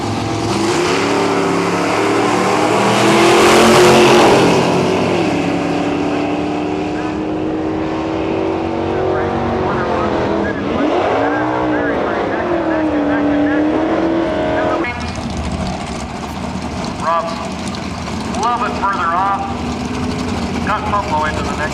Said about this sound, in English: Calhoun is 63 Chevy 2